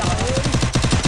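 Video-game gunfire rattles in a rapid, close, loud automatic burst of evenly spaced shots that continues for about a second.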